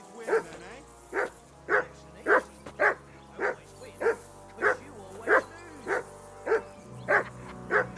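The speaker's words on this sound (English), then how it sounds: "Jesus, Henry, that barking's driving me nuts." A dog barking in the video game Kingdom Come: Deliverance 2, a steady run of about a dozen loud, evenly spaced barks, close and insistent, over a low background hum.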